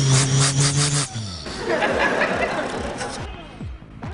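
A voice imitates a Ford Transit engine with rough, pulsing mouth sounds, first a rapid rhythmic idle, then a drawn-out hissing, rattling rev that fades near the end.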